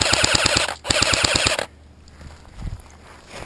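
Airsoft gun fired in two rapid bursts of about six shots each during an outdoor match, sharp close cracks, followed by quiet.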